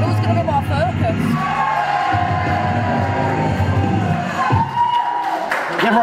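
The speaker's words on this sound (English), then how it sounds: "You ever have people cheer for you like that" Wrestling show crowd roaring and cheering continuously at close range, a dense mass of voices with shouts and whoops, loud throughout with talk mixed in.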